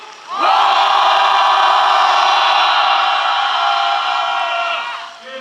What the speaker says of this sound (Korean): 기소를 촉구하는 함성 시작!